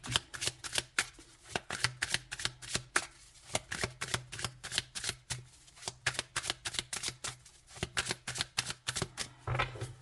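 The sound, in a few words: shuffling oracle cards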